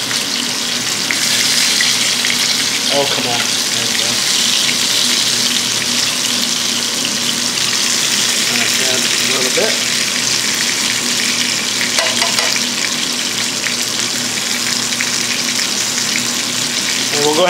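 Venison pieces sizzle steadily in an electric skillet, a loud continuous frying hiss with occasional soft clinks, while a person speaks briefly nearby.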